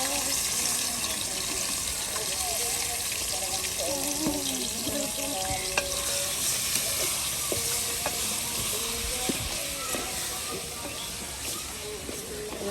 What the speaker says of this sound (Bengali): তেলের উপর মাংস দিয়ে দিলাম।